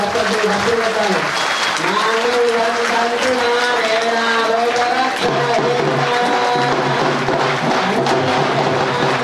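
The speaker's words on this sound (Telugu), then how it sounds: "అందరూ కూడా గట్టిగా చప్పట్లు కొట్టాలి" Loud, dense clapping from a crowd at a Shivaratri Shiva-Parvati wedding ceremony in a Shiva temple in Perkit, running steadily throughout with voices and singing layered over it.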